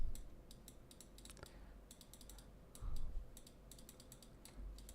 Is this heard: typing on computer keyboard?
yes